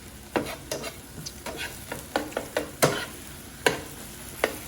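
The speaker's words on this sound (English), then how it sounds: "Good thing about making scrambled eggs, it doesn't take very long." Scrambled eggs cooking in a pan, a quiet sizzle under a dozen or so sharp scraping and tapping strokes of a utensil at an uneven pace.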